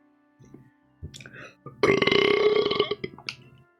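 Creature belch from the video game Pokemon Legends: Arceus, a loud, drawn-out burp of about a second, preceded by a few short grunting sounds and followed by a faint trailing grunt.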